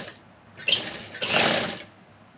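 A sewing machine runs in two short bursts while stitching a suit, whirring close and fairly loud, with a brief pause between the runs.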